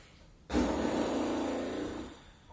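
A deep, steady inhale during yoga breathing, starting abruptly and sustained for about one and a half seconds before fading, close and fairly quiet, with no talking over it.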